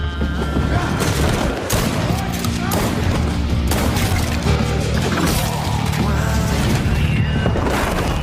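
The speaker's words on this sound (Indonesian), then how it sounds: "Sayangnya di tengah baku tembak itu," Rapid gunfire crackles through a film shootout where a man armed with a pistol storms a hideout, shots and booms packed densely over a dramatic soundtrack for the whole stretch, with loud, sustained action and no pause.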